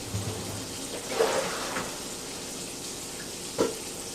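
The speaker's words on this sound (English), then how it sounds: "So I'm going to drain these potatoes on the side." Water drains from a pot of boiled white potatoes in a home kitchen, a steady soft splashing pour with a couple of brief louder gushes, close and alone.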